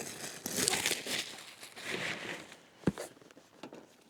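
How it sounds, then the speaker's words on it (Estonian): Plastic film is peeled off a trail camera package, making close crinkling and rustling in uneven bursts, busiest early on, followed by a sharp single crackle near the end, with no talking. "Võtame selle kile ilusti ära."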